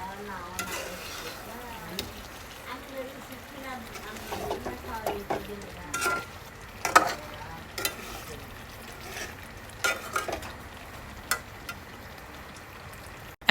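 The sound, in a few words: chicken being sautéed and stirred in pan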